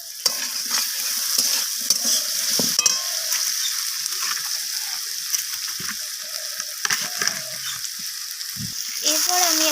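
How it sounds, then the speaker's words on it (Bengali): Ginger and cumin frying in a pan while being stirred for a red amaranth leaf stir-fry, a steady close sizzle broken by scraping spatula strokes and clinks, with brief soft voice sounds in places. "আদা আর জিরেটাকে দিয়ে আমি এইভাবে নাড়াচাড়া করে মিশিয়ে নিচ্ছি"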